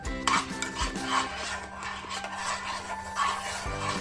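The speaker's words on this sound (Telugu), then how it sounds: "కలుపుకుంటూ చిన్నగా లో ఫ్లేమ్లో పెట్టేసి అడుగంటకుండా చూసుకోవాలి" Biryani gravy is stirred in a pan over a low flame, a spoon scraping and swishing through the thick sauce with a faint sizzle underneath, steady and close, with no talking.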